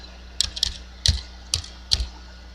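Someone types a short sequence on a computer keyboard, producing five crisp, close keystrokes spaced irregularly about half a second apart in a quiet room.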